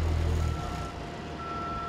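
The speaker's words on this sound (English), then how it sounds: "we hear the backup alarms and we hear the tones of the heavy equipment" Backup alarm of a reversing truck in a roadside work zone: a steady, loud beeping tone over a low engine drone that cuts out after half a second, leaving the engine idling alone.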